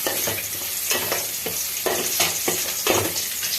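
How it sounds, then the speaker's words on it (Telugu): Eggs frying in a pan for an onion-tomato egg curry, with a continuous loud sizzle and repeated scraping strokes of a spatula stirring them, close by and with no talk. "ఎగ్స్ కూడా వేగిపోయాయి."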